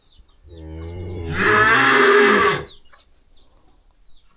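A single long, loud cow moo close by, rising from a low drawn-out start into a full bellow before it fades into quiet.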